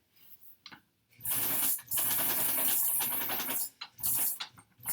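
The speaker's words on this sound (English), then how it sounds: "A little reverse stitch there." A sewing machine stitches quilt pieces in close, loud whirring runs of a second or two, stopping briefly between bursts as the fabric is fed and reverse-stitched.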